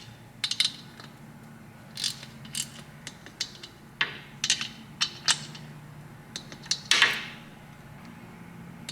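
Torque wrench clicking as bolts on the top end of a 131 cubic inch Harley-Davidson engine are tightened in a crisscross pattern: a series of sharp, separate clicks and ratchet snaps spaced about a second apart, close and fairly quiet in a still room.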